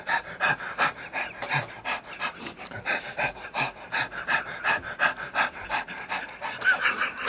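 A man imitates a dog panting in a radio studio, voicing quick rhythmic huffing breaths that run steadily and close for several seconds with no talk over them.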